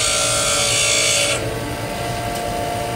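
A bench grinder wheel being dressed while sharpening a lathe threading tool gives a loud, steady high-pitched grinding hiss. It cuts off abruptly partway through and leaves a lower motor hum running on its own.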